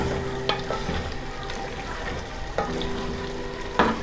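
Eggs frying in a pan with carrots and green beans for a garden egg sauce, a steady close sizzle with occasional spatula scrapes and taps against the pan.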